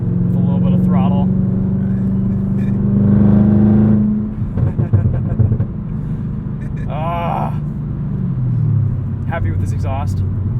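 A 2022 Chevrolet Camaro ZL1 manual coupe with an MRT exhaust accelerates from the driver's seat, its deep rumbling exhaust swelling loudly and then shifting. A few short vocal bursts break in over the engine.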